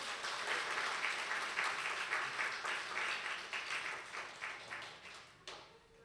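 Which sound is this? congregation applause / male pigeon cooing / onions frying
congregation applause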